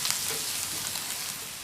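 Spices with coriander powder sizzle and fry in a hot pan for a South Indian tomato dish, a steady crackling hiss with occasional light stirring, close and constant throughout.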